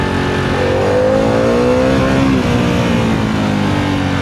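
A 2025 Harley-Davidson Pan America ST motorcycle pulls away at low speed on a cold morning, its engine loud and close with a steady rising drone that climbs in pitch through the pull-out, with no one talking.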